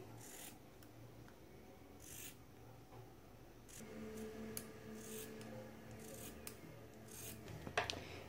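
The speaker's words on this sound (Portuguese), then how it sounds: "Então eu vou cortar aqui esse bico" Scissors snip through the nozzle of a large latex balloon, a few quiet cuts and rustles close by in a calm room.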